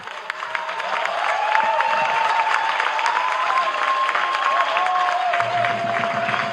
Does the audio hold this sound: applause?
yes